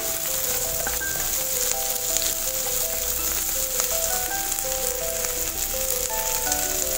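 Garlic, chillies, onion and seasoning stir-frying in a hot pan for fried rice, a steady close sizzle and crackle that stays even throughout, with scattered clinks of a utensil scraping the pan and no talking.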